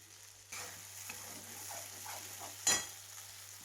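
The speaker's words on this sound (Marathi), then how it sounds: "आता त्याच्यामध्ये ही बनवलेली पेस्ट टाकून घेतलेली आहे आणि तेलावरती छान अशी मी भाजून घेणार आहे" Spice paste for chicken curry is fried in oil in a wok, with a faint continuous sizzle and occasional scraping stirs, including one sharper clink near the end. Quiet and close, no speech.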